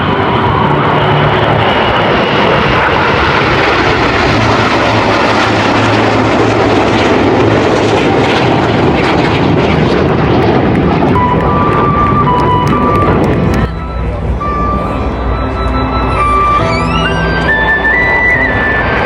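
Aerobatic display aircraft fly at the EAA AirVenture Oshkosh 2026 air show, producing a loud, continuous engine roar that swells and shifts, then thins to a whining, pitch-changing tone as the planes pass.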